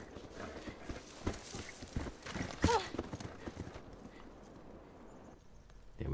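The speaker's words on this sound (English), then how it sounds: "There's our horse." Horse hooves clip-clop in The Last of Us video game, a run of uneven thuds at close range with a brief whinny-like cry in the middle, then the sound fades toward quieter ambience.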